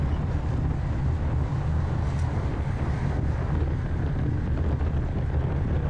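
Steady, roaring crosswind blasts across a camera on a bicycle racing at 41 km/h, with constant low rumbling and hiss, loud and unbroken throughout.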